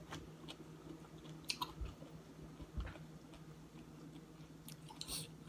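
Close chewing and biting of sour mango, with soft crunchy bites and wet mastication at an uneven rhythm over a low steady background hum, no talking.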